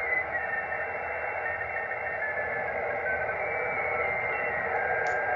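Receiver tuned in upper sideband on a busy HF amateur band near 21 MHz, giving a steady, dense wash of hiss and overlapping faint signals that holds without a break.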